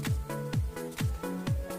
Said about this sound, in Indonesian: Itu adalah bunyi dari nada dengan oktav rendah.